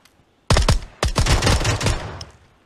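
Gunfire in PUBG: Battlegrounds: a loud, close automatic burst with several quick cracking shots, a short pause, then a longer rattling string that fades into echo.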